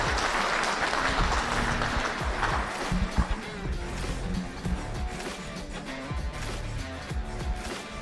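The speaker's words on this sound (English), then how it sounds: "Let's give a big round of applause" Audience at a member kick-off event breaks into sustained applause, a dense wash of clapping that stays loud throughout, with scattered louder claps and faint voices mixed in.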